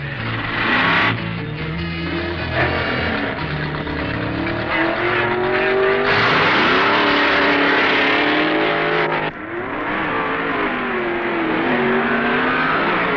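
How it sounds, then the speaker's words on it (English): An automatic Hemi Barracuda roars at a drag racing event, with loud engine revving and rising, shifting pitch across several seconds of powerful acceleration, and no talk. "full-time pro, Don Grother of Oklahoma City, pits his automatic Hemi Barracuda against Southern Californian Wiley Cossey."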